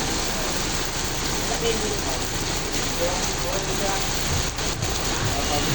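Steady rain pours onto tents at an outdoor food stall during a rainy afternoon, a dense continuous hiss close by with someone talking over it.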